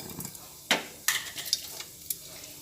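Black mustard seeds and a halved dried chilli sizzling in hot oil: a quiet bed of frying hiss with a few distinct sharp pops and crackles, and light stirring clatter, no speech.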